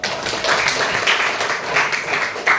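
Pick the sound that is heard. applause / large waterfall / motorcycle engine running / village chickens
applause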